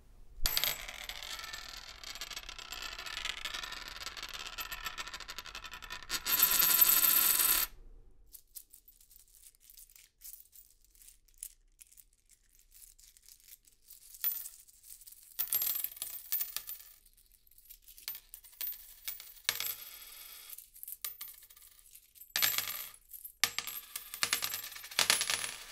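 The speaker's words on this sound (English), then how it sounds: "Let's use some coins and drop them here on the surface." Coins dropped onto a surface clink and jingle in scattered bursts, close and fairly quiet, following a stretch of rustling handling noise, with no talking.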